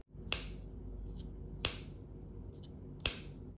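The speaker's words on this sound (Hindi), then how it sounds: "इसे बंद करने पर जो क्लिक की साउंड होती है वो भी एक प्रीमियम फील देती है" Charging case of Realme Techlife Buds T100 wireless earbuds snapping shut, three sharp, crisp clicks spaced about a second and a half apart over a quiet background.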